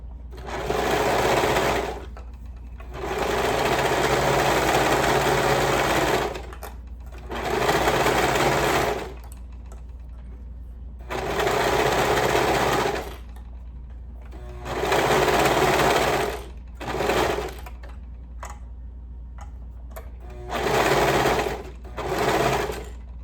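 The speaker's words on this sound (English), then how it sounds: "Going to sew that up with a 1/2 inch seam allowance again" A domestic sewing machine stitches a sleeve seam at a half-inch allowance, running in about eight steady mechanical bursts of a few seconds each, separated by short quiet pauses, close and clear with no talking.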